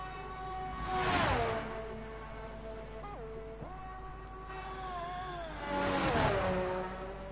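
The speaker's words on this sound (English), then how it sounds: "the AlphaTauri has always been a good sounding car" An AlphaTauri Formula 1 car in a racing video game, its high-revving engine whining through upshifts and downshifts, swelling loudly twice as it passes close with a brief lift between.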